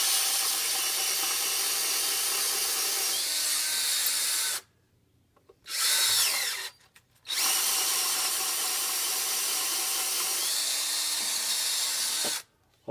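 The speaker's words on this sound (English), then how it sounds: "just take a 5/16 drill bit, because there's a lot of meat inside the intake manifold" A power drill with a 5/16 bit boring out bolt holes in the intake manifold of a 6.0 Powerstroke diesel, a loud steady high whine in three runs separated by brief pauses.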